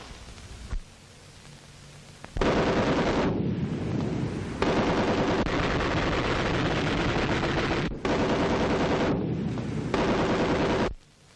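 Machine guns fire during a 1937 infantry attack exercise: after a brief lull, loud, sustained rapid bursts roar almost continuously, with only short breaks between volleys.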